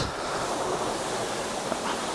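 A waterfall near the top of a hill gives off a steady, close, broadband rushing roar, continuous and even throughout with no talking.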